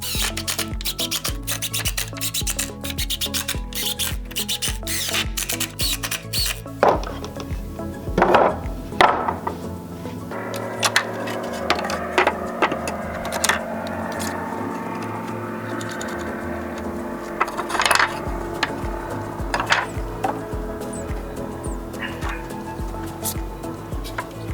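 Drywall screws, one inch long, driven into reclaimed pallet wood for a small box-style tree stand: grinding, rasping screw-driving noise with intermittent knocks and thumps, close and steady throughout.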